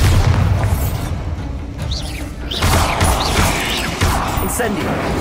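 A Bombarda blasting spell in the Hogwarts Legacy game, a loud boom with crashing, creaking debris and clattering mechanisms, several heavy thuds spread across the stretch, with a voice talking over it.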